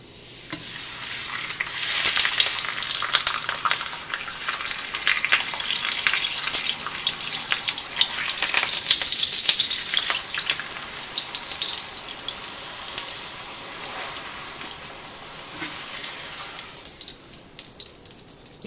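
Tortillas frying a few seconds per side in a hot skillet with about two tablespoons of vegetable or canola oil, a loud, close, continuous sizzle that surges and crackles as they are flipped, with no talking.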